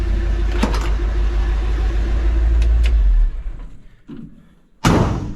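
A stock 360 engine in a highboy ranch truck idles with a low, quiet rumble up close, then shuts off, followed by a couple of dull thuds like a door closing.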